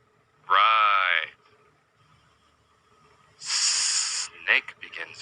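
Two loud hissing bursts, each about a second long, separated by a pause, the second brighter and followed by short breathy puffs; the hisses may come from a person imitating a snake.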